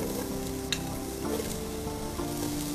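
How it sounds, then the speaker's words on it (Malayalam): Onions sautéing in a pan for keema paratha give a steady close sizzle with the scrape of stirring, plus one brief sharp clatter partway through and a faint tonal hum underneath; no one talks. "ഇനി ഉള്ളി വഴറ്റുക"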